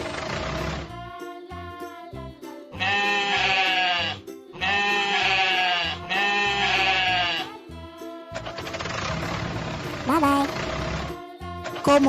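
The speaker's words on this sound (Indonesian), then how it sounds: "Sheep." Cartoon sheep bleating in a children's animated animal-sounds show, three long wavering bleats in a row over background music, loud and close.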